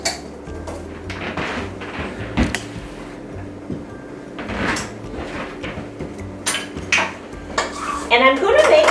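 A metal muffin pan and a whisk clatter and clink as they are shifted around a kitchen counter, with irregular bursts of knocks and scrapes that grow busier and louder toward the end.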